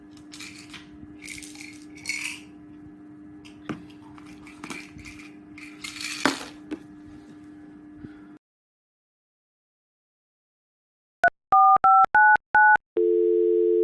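A telephone call goes unanswered: after quiet room noise and a pause, a quick series of short electronic dialing beeps is followed by a steady, continuous line tone.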